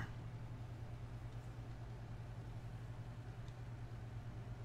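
Steady engine drone from a PB4Y aircraft in the Stormworks video game, its engines running smoothly at a constant level with a low humming tone throughout and no voices.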